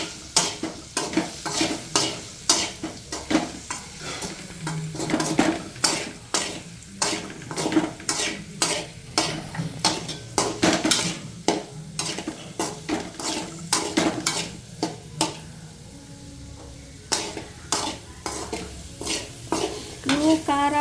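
A spoonful of black salt mixture frying on a low flame while a spoon scrapes and clanks rhythmically against the pan, sharp repeated strokes over a soft background sizzle, close and sustained, no talk.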